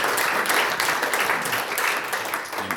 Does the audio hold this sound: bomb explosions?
no